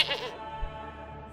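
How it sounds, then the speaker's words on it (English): Goats bleat in the medieval city-building game Manor Lords, a single brief, fairly faint bleat at the start that fades into quiet ambient game sound. "So let's get some goats."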